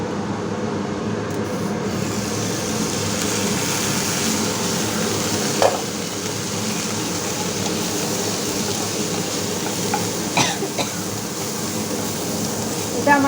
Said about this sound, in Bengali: একটু এটা ভাজা ভাজা হয়ে যাক।